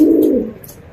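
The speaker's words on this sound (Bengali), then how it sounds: "আপনারা দেখতে পাচ্ছেন এক পেয়ার নান কবুতরের জোড়া" A pair of large nun pigeons gives a single low, close coo that fades after about half a second, with no talking.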